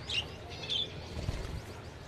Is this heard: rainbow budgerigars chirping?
yes